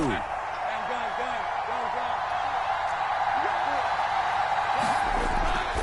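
A stadium crowd in a PS4 football video game roars in a steady, dense wash of noise beneath continuous commentary, with a few sharper cheers and whoops rising near the end.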